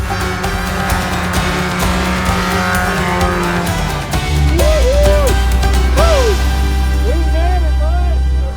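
Car driven hard on a snowy 12,000-foot mountain road, a loud engine roar with gear changes and bursts of tire squeal, the engine note dropping and surging midway.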